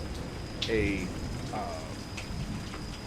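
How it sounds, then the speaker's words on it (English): A simulated rainstorm sound, steady broadband hiss of rain with a few brief tonal sweeps and a faint constant high tone, moderately quiet over about three seconds. "essentially a rainstorm"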